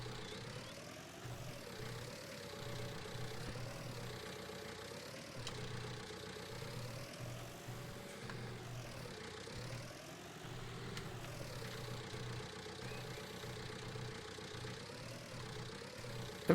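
A tractor engine in Farming Simulator 19 runs steadily with a droning, tonal hum whose pitch rises and falls as the revs change, mid-loud and continuous, with no talk.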